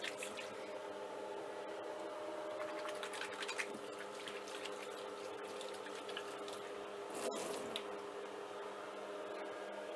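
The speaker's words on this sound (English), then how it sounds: "Make sure you wash your hands with soap" Hands washed with soap at a kitchen sink: a faint, steady run of tap water with soft squishy rubbing and occasional splashes, heard alone with no talk.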